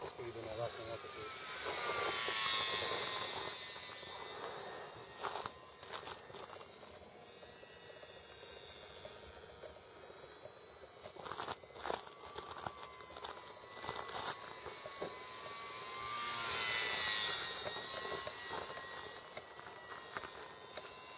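Durafly Telemicro RC model plane making a slow flyby outdoors, its thin electric motor buzz swelling as it passes near, fading, then rising again, with people talking throughout.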